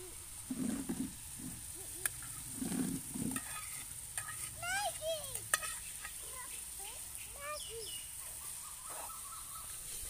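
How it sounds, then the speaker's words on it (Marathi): Boiled Maggi noodles stirred in a pan outdoors in Gorai village, soft scraping and sizzling strokes while crows and other birds call nearby. "मॅगी टाकून याला आता मस्तपैकी मिक्स करून घेऊया आपण।"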